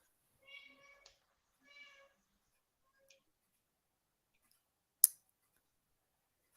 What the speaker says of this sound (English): it is my cat meowing because she wants to come in